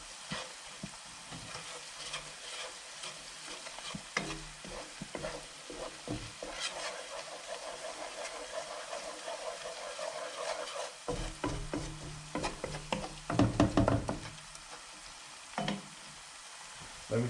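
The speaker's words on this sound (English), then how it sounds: "We can stir that in." A spoon stirs tomato sauce seasoned with black pepper and salt in a pan, giving soft scraping strokes over a gentle sizzle, with louder clattering bursts near the end and no talk.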